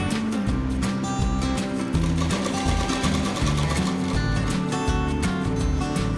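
A sewing machine stitches the seam of a cloth bag in a steady, loud, close mechanical whir with a fast rhythmic clatter that runs without a break.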